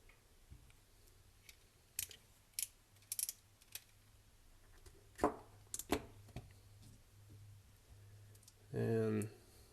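A worn outer tie rod end ball joint from a Dodge Ram 1500, cut open and worked by hand, gives faint scattered clicks and pops, with a brief louder scrape near the end.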